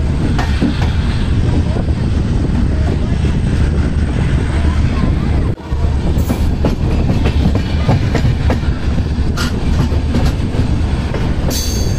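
A long passenger train on the Jodhpur to Jaipur line rolls steadily along the rails near an old-style station at Gotan, with a loud, continuous rumble and rhythmic wheel clatter throughout, broken by a brief dip midway.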